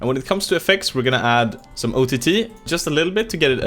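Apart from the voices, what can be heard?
No everyday noise stands out behind the speech.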